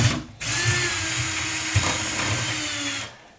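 A Parkside power drill whirs steadily for about three seconds at close range, starting abruptly and winding down at the end, with a brief bump midway.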